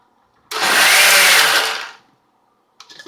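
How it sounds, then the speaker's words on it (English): A high-end blender, Vitamix-style, blends raw oatmeal in one loud, steady burst of motor whir lasting about a second and a half, then cuts off sharply, followed by brief faint clatter. "blend it up a little bit"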